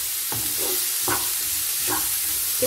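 Cauliflower and biryani ingredients frying in a pan over a lowered stove flame, giving a steady sizzle with repeated stirring scrapes at a regular pace, close and moderately loud, with no talking.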